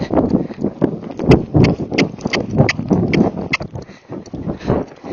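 Rapid, uneven hoofbeats of a trotty Rocky Mountain Horse under saddle, close and fairly loud clip-clop strikes in quick irregular rhythm, with light wind noise on the microphone.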